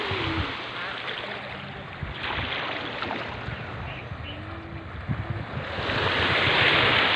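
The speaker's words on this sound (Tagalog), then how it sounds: "Ayan po ang karagatan na kalmadong kalmado." Calm ocean surf washes steadily in a broad, even hiss with gentle swells, over light wind and faint background sounds, and grows slightly louder near the end.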